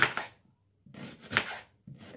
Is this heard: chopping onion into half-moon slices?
yes